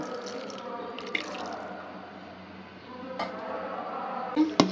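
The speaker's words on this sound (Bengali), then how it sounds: "এর সাথে আমি কিছু পানি দিয়ে দিচ্ছি সিদ্ধ হওয়ার জন্য" Water is poured into a cooking pot holding turmeric and soybean oil, ready for boiling: a soft, faint, continuous splash ending with a few light clinks.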